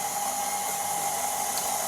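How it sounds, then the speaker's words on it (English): KitchenAid stand mixer running on flour and baking powder, a steady close motor whir with a sustained high whine, unbroken throughout. "all into the KitchenAid, and then we'll switch it on"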